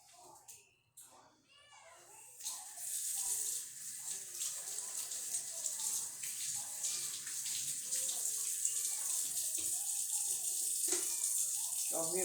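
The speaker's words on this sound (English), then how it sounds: "Let me give my hands a good rinse." Running kitchen tap water splashes over hands being rinsed, a steady broadband rush that fills the clip after a quieter start, with brief child-like voice sounds early on.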